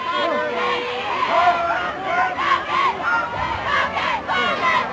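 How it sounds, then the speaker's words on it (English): A crowd at a softball state championship game grows loud with shouting, cheering and chanting voices, a dense swelling babble of many people. "Crowd getting a little more vocal here in the 6th inning."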